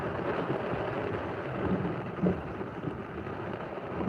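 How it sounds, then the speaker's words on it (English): Heavy rain pouring down outdoors, a dense steady hiss with a few louder gusts and thumps, no voices. "it's raining so hard outside."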